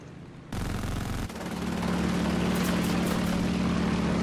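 A propeller fighter plane engine in a combat flight video game drones loudly and steadily, swelling after a sudden start, with a rough throbbing tone and no voices.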